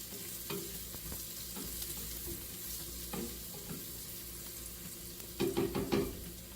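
Mushrooms fry in a pan for a cheesesteak, with a steady soft sizzle under occasional stirring scrapes and a louder cluster of clatter near the end.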